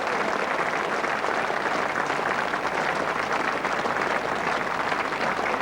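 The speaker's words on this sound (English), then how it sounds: "And the round of applause" Sustained crowd applause at a 1986 England v New Zealand Test match at Trent Bridge, steady and dense clapping from a large cricket crowd throughout, with no voices on top.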